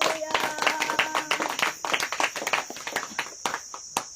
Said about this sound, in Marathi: परमेश्वराच्या पवित्र नावाचा पुन्हा एकदा टाळ्या वाजून आपण धन्यवाद करू